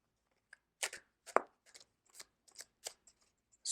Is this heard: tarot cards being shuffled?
yes